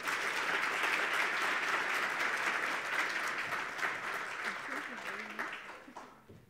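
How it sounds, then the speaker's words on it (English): Warm applause from a conference audience for a panel at a national green hydrogen conference, strong at first and fading toward the end, with a voice starting to speak as it dies down. "give my brilliant panel another round of applause."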